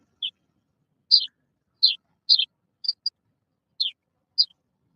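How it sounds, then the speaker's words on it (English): Birds chirping outdoors in a small town, a string of eight short, high tweets spaced irregularly against an otherwise silent background, fairly close and clear. "I hear birds chirping."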